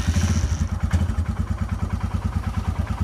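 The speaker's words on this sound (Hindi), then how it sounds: "ये बाइक को अभी कोल्ड स्टार्ट किया है" A motorcycle engine idles steadily just after a cold start, with a rapid, lumpy thumping rhythm, close and loud, running alone throughout.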